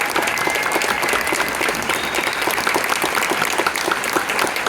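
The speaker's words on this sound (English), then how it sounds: "Let's give them a round of applause." A concert audience claps loudly and steadily for a band at a Christmas concert, a dense, continuous wash of many hands with no break across the whole stretch.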